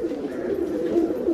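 Pigeons coo softly nearby in a pigeon loft in Vikroli, Mumbai, low throaty warbling calls repeating in gentle rolling phrases against quiet background noise.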